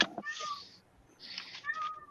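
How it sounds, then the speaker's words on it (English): An indoor cat gives two drawn-out, whiny meows, close and moderately loud, separated by a brief pause. "this cat's annoying right now"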